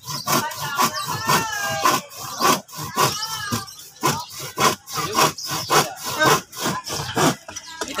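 A hand saw rasps through wood in quick, regular back-and-forth strokes, close and loud, keeping an even rhythm throughout.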